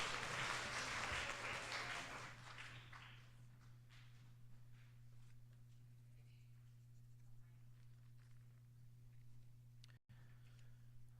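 Spelling bee audience at a school applauding contestants, a brief burst of clapping that fades within about two seconds into a quiet room with a steady electrical hum and a few faint taps.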